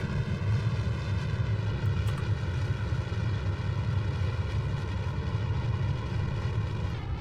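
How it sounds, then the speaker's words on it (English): Twin KS25 rocket engines in deep throttle mode in Kerbal Space Program give a steady, dense roar with a deep rumble, loud and unbroken throughout, with no one speaking. "twin KS25s have gone into deep throttle mode."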